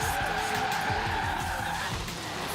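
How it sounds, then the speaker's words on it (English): Tires squeal steadily as a car drifts in the racing game Forza Horizon 3, a continuous high screech over the low engine drone, loud and close for the whole stretch. "Give it a little drift, get the tires warmed up."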